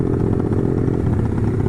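A Honda CB150R motorcycle fitted with a BSS bulat pro ported exhaust idles close by with a steady, throbbing, low-pitched burble and no talk.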